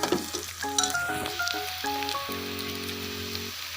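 Garlic, green mango and eggplant sauté in a pan for bisi bele bath, a close, steady sizzle and crackle with faint stirring scrapes throughout, with no voices.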